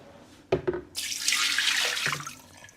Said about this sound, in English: let me do a dirty water pour so you can see it outside of this black container